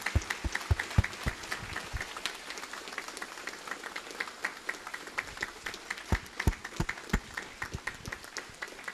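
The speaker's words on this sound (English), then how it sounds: "So I think we owe every one of them a round of applause this evening." A crowd at a town hall event applauds law enforcement officers, with sharp individual claps standing out over a thinner background of clapping that continues unevenly at moderate loudness.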